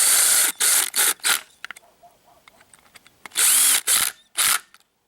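A power tool backs out a Torx 30 fastener on a 2005 Dodge Neon during a transmission mount replacement, giving several loud, close ratcheting bursts separated by quiet clicks and small handling noises.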